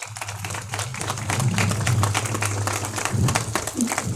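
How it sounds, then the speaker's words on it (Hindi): Steady applause from the gathering at a Brahma Kumaris centre in Jaggi Colony, Ambala City, as a visiting brother is welcomed, with a low hum and voices running underneath the continuous clapping. "जोरदार तालियों के साथ"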